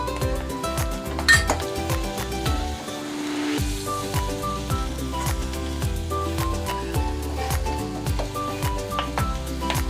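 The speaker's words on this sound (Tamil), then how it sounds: "இந்த கரம் மசாலா மஞ்சத்தூளும் கலந்துக்கிறேன்." A metal spoon scraping and clinking against a pan as garam masala and turmeric are stirred into a cooking Kerala-style chickpea curry, with repeated rhythmic clanks and a soft sizzle underneath.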